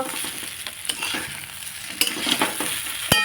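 A semolina snack mixture is stirred in a pan over a medium flame, brief scraping strokes and light knocks over a gentle sizzle, close and without speech.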